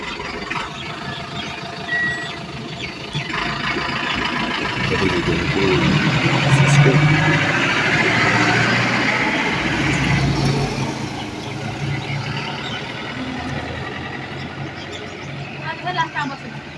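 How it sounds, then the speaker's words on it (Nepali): A school bus arrives with its engine running and reversing beeps sounding, a broad steady vehicle rumble swelling in the middle and easing off, with a person talking over it. "आउँछ गाडी त्यहीँ आउँछन् नि"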